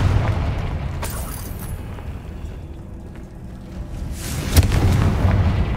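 Confringo fire-blast spell exploding in Hogwarts Legacy, two booming bursts about three and a half seconds apart over a low rumbling background.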